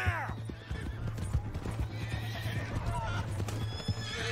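A horse in the Red Dead Redemption video game gives a loud, shaky whinny at the start, then hooves clip-clop steadily over a low constant hum, with voices talking throughout.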